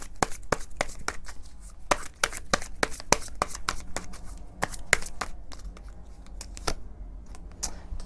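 Tarot cards being shuffled and drawn, a quick run of crisp close-up card slaps and flicks in an uneven rhythm, with occasional soft rustling between them in a quiet room.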